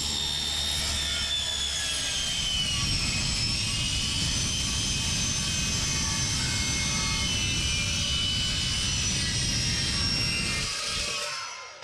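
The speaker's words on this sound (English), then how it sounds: "take the angle grinder to it" An angle grinder cuts into a steel pipe with a continuous loud, high-pitched shriek that holds steady for about eleven seconds and then cuts off abruptly.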